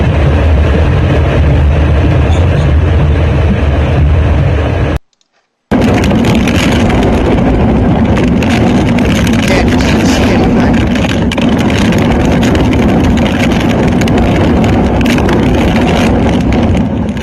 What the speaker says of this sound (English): the camera's still up because you can obviously hear the wind